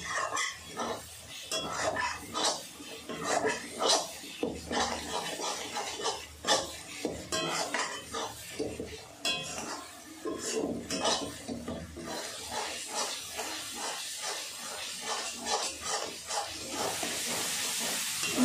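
Spices including red chilli powder and coriander powder are stirred into a pan for a jackfruit and prawn dish, giving repeated scraping and clinking of a spoon against metal over a background hiss, fairly close.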